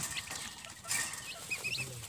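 Crossbred chickens cluck and chirp in short bursts while being weighed, close and moderately loud against a constant low background noise, with no talk.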